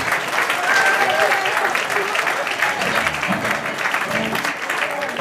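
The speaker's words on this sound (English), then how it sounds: "I'd like to give a big round of applause" Concert audience at Hugh's Room applauding after a tribute concert, dense continuous clapping from a full crowd that holds steady throughout with a few scattered cheers.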